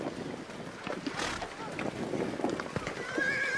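Horses neigh and whinny as a herd is driven to water in the open Mongolian countryside. Voices talk through the clip, and wind buffets the microphone.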